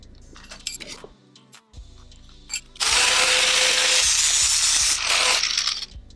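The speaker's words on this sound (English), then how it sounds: "So now I'm going to rivet more." A motorcycle exhaust pipe is riveted with a power tool, giving scattered metallic clinks and taps followed by a loud, sustained drill-like whir lasting a few seconds, and sharp knocks recurring through it.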